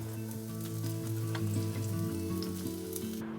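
Garlic, ginger and tofu sautéing in chili oil over medium heat, a steady close sizzle and crackle of frying with a faint stirring scrape, no talking.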